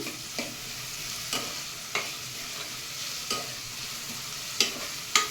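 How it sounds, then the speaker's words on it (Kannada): Onions fry with a steady crackling sizzle in a pan while a utensil stirs them, scraping in sharp, evenly spaced strokes roughly once a second. "ಫ್ರೈ ಮಾಡೋಣ ಈರುಳ್ಳಿನ. ಈರುಳ್ಳಿ ಚೆನ್ನಾಗಿ ಫ್ರೈ ಆಗಲಿ."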